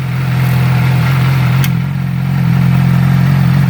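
A 2008 Yamaha R6 motorcycle running without a muffler, exhaust valve closed, idles with a steady, even mid-pitched drone up close, broken by one brief click partway through.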